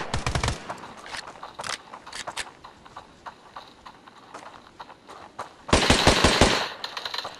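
Rapid bursts of gunfire from a Glock pistol and MP7 in the mobile shooter Standoff 2, with scattered sharp shots early on and a loud sustained volley near the end.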